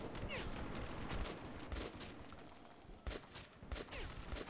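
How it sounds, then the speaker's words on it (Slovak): Heavy machine gun fire in the Metro 2033 Redux video game, with rapid bursts and scattered single shots crackling across the whole stretch, loud but uneven, interrupted by brief lulls. "ťažký gulomet tam majú"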